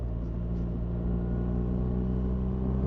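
A BMW R1300RS motorcycle pulling hard in second gear gives a steady, loud, low engine drone with a rich harmonic rumble, continuous throughout and without voices.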